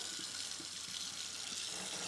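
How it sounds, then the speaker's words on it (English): Water runs steadily from a tap into a pot to cover a turkey, a continuous hissing splash with no talk. "I want to cover the turkey with the water"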